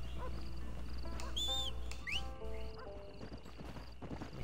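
Horse in the video game Red Dead Redemption, clip-clopping hooves with a loud whinny near the middle, over an outdoor ambience with birdlike whistles.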